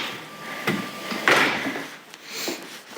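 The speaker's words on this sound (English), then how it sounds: "Open the red door." A red door is handled up close: a latch clicks, then a scraping creak as it swings open, followed by a few soft knocks.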